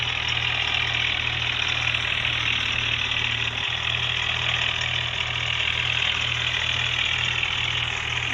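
A John Deere tractor engine runs at a steady idle, a loud, constant mechanical drone with a faint rhythmic throb that continues throughout with no pauses.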